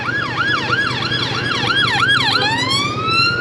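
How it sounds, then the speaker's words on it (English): An ambulance siren wails in a rapid repeating yelp pattern, then shifts into a long rising tone, loud and close over road noise. "Always sirens round here while I'm trying to do my videos."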